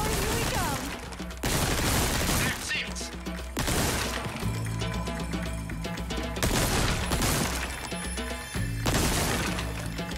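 Gunfire in the video game Resident Evil 4 Remake, loud sharp shots arriving in several distinct bursts separated by short quieter gaps, with cracking, smashing impacts and brief speech mixed in.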